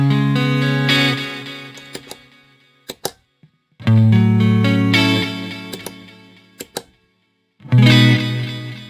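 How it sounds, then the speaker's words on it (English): Guitar chords run through an Eventide H90 effects pedal with reverb and delay programs play in bursts, and between them the reverb and delay tails ring and fade. Isolated picked notes fill the quieter gaps. "we can hear the reverb and delay trail off when the program is bypassed."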